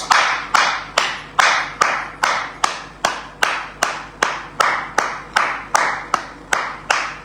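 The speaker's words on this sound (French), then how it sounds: "Je voudrais applaudir les camarades." A standing audience at a political gathering claps in strong unison, sharp regular beats a little faster than two per second, steady and loud throughout with no voices.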